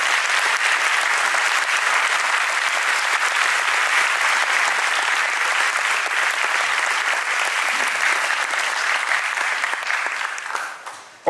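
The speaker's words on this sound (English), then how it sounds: "I would ask that we give a round of applause to all the faculty and workers here at ISPP" Audience at a 2019 school graduation ceremony claps in sustained, dense applause that stays loud and even, then tapers off quickly in the final second.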